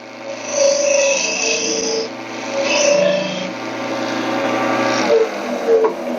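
A detail spindle gouge rolls a bead into V-notches on a wood lathe, giving a steady scraping, rasping hiss over the spinning lathe's drone, with a few brief louder swells as the cut shifts, close by.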